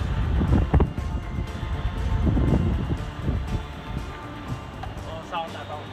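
Strong wind buffets the microphone in a heavy, steady roar with low rumbling gusts on a river crossing with strong current, while indistinct voices sound faintly beneath it.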